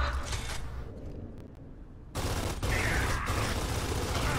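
Bursts of automatic gunfire in Gears of War 3 horde mode, a rattling volley that drops out briefly then returns louder and denser, continuing steadily to the end.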